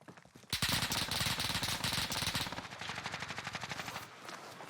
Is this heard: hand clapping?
no